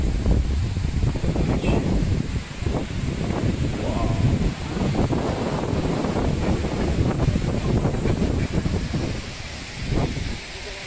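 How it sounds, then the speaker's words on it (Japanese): Thi Lo Su waterfall in the jungle of Tak, Thailand, a broad steady roar of rushing water close by, with someone talking intermittently over it. "ティーロース滝にやってまいりました"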